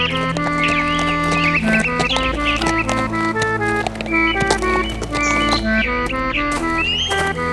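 Horse hooves clip-clopping in an animated children's story, a rhythmic trotting beat running under loud, continuous tuneful background music throughout.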